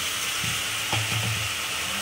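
Meat goes into spiced masala in a kadai and sizzles with a steady hiss, with a brief stir and clatter near the middle, close by.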